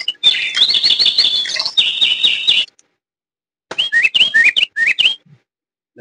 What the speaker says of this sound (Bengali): তালি দিলেই পাখিটা সাউন্ড হবে, দেখছেন?